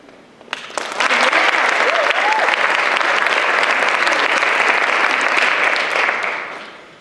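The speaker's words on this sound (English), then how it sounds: "give a round of applause to everyone that has been on stage thus far, especially our youth" A large audience at a community speaking engagement breaks into loud, sustained applause for everyone on stage, swelling quickly, holding for several seconds, then tapering off, with a few scattered voices at the start.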